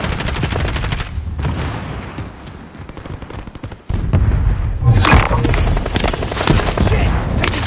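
Rapid gunfire bursts and thudding impacts in a military video game, loud and sustained with a sharp jump in intensity midway, while voices shout callouts over the shooting.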